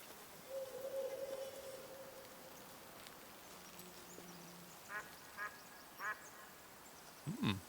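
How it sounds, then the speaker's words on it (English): A wild duck in the hunting game Way of the Hunter gives several short, clear quacks spaced over a few seconds, with a softer quack and faint insect-like buzzing earlier against a quiet outdoor ambience. "Wild duck."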